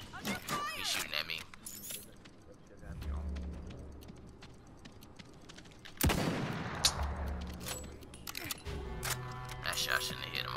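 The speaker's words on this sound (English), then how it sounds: "He's shooting at me." Gunfire crackles in the video game Realm Royale, with repeated shots in rapid volleys and a sharp, louder burst midway through, alongside other game sounds.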